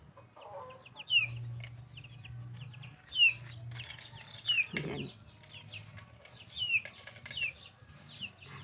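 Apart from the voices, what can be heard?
chickens clucking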